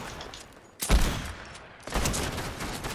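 Exploding-rifle gunfire in a video game, two loud blasts about a second apart, each trailing into a rumbling, crackling tail over steady background game noise.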